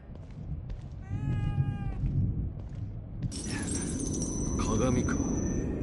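A cat meows several times in the Japanese horror video game Psycho Break 2 (The Evil Within 2), the drawn-out cries rising over a low ambient rumble before a sharp glassy high-pitched tone cuts in.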